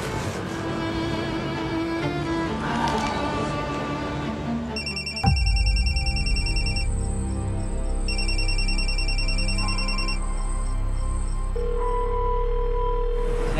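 A telephone rings out on an outgoing call in an Indonesian TV drama scene, its repeated electronic ring tones in bursts over a low background hum, with no one speaking.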